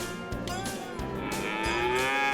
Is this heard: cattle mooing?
yes